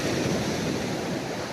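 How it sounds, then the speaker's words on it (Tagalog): Ocean waves wash continuously onto a beach at sunrise in Sorsogon, a steady broadband surf roar that fills the whole stretch without pause, close and fairly loud, with no voices. "Kailan titigil ang waves?"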